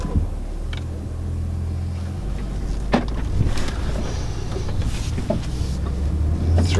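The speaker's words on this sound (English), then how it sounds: "let's go for a drive in a Porsche Macan Turbo" A 2015 Porsche Macan Turbo with 400 horsepower is driven along, its low engine drone and road rumble filling the cabin steadily, with light wind noise and faint clicks over it.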